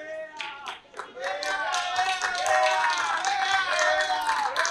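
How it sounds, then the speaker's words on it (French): A crowd applauds during an amateur football match between FC Champion and Passion Athletic Club as a player is substituted; steady clapping sits under a commentator speaking throughout. "Applaudi par le grand public"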